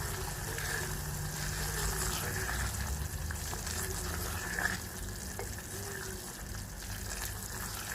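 Chickpeas roast in a pan with a steady, fairly quiet sizzle and frying crackle that runs throughout, with faint stirring scrapes and no talk in between.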